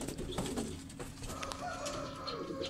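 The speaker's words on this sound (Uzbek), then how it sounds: "Andijon zot kaptorlar." Andijan breed pigeons cooing nearby in soft repeated low calls over light background chirps, with a brief rustle of wings.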